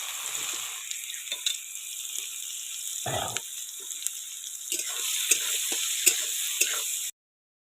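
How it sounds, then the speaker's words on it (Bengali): Soybean chunks dropped into very hot oil, frying with a faint, steady sizzle and scattered small crackles and pops, with a short louder burst partway through, before the sound cuts off abruptly. "তেলটাও টনটনা গরম হয়ে গেছে, দিয়ে দিলাম সোয়াবিনগুলো"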